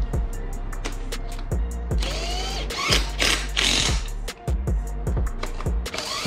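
Bolts being run in with a power tool while a turbo manifold is fitted to a billet engine, heard as a series of short, close, sharp mechanical bursts with clanks between them and no talk.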